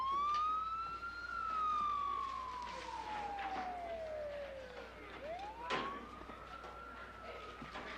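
A police siren wails in a long falling sweep, dips low, then rises again, sounding from moderate distance over faint traffic noise.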